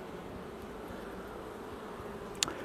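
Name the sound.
honey bees buzzing on a hive frame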